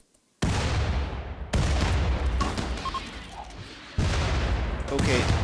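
Bursts of gunfire ring out in the colony-building video game Rimworld, several loud, dense volleys separated by brief gaps, with a voice talking over the shooting.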